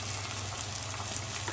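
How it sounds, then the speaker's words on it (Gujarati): Tomato masala sizzles in a pan on a low gas flame while vegetable khichdi cooks, a soft, even crackling fry heard close and alone. "આપણું ટામેટું પણ સતરાઈ ગયું છે સારું એવું."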